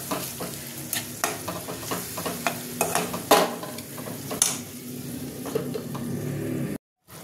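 Crab masala sautéed and stirred in a pan with salt and garam masala, a steady sizzle under repeated scraping strokes of a spoon, loud and close, cutting off briefly near the end.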